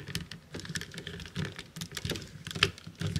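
Plastic clicks and snaps from a FansToys FT-55 Recorder & Fast-Forward transforming figure as its arm is pulled down and locked into place, a quick run of close, light taps with one sharper click near the end.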